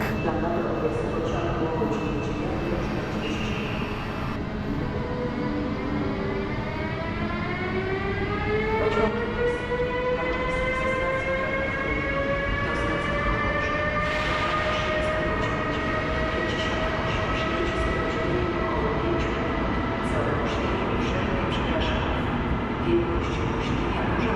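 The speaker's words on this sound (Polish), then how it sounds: "Zaczynamy od pociągu do stacji Lips" A train at Wrocław Główny station rolls through with a sustained low rumble, while rising and falling tonal whines sweep across the middle of the passage, faint clanks in the background.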